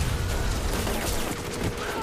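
Enemy gunfire in the video game Saints Row 3, a dense, steady crackle of rapid shots filling the short stretch at moderate loudness.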